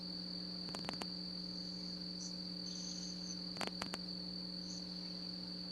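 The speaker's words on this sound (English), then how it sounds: "The crickets. Breathing with the crickets. Nighttime upon us." Crickets chirp steadily at night in a continuous high trill, with a few brief rhythmic pulses standing out, and no voices.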